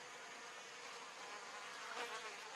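A faint, continuous buzzing of wasps near a carton ant nest in French Guiana, with one slightly nearer flyby toward the end.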